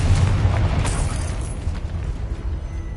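A Confringo spell explosion in Hogwarts Legacy, a loud booming blast at the start that rolls into a fading, rumbling tail with crackling debris, close and alone.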